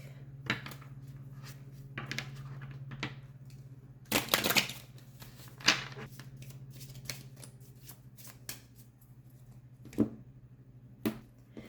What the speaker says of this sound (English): So going into the Moonology deck here, let me shuffle this up real quick.